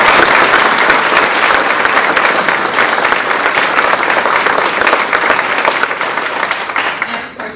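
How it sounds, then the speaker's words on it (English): Sustained applause from an audience at a county foundation's fall grant celebration, steady dense clapping at full volume that tapers off near the end. "A round of applause for"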